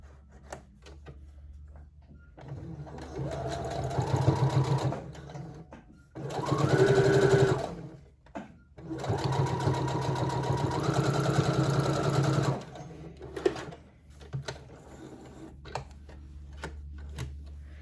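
A sewing machine runs a stretch stitch along a toddler halter top in several steady bursts, including two long runs separated by a short pause and brief stops, loud and close.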